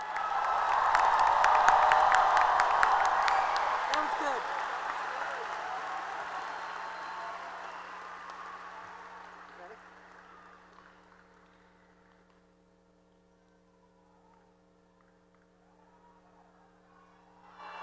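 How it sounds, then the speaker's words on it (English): A high school graduation crowd breaks into loud applause and cheering that swells early, then fades over several seconds into a low hall hum, with a voice speaking briefly near the end. "Let's give them a round of applause."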